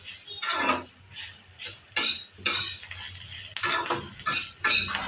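Bitter gourd stir-fried in a pan with curry leaves, a close, lively sizzle broken by repeated scraping strokes of a spatula against the metal, rhythmic and fairly loud, with no voices.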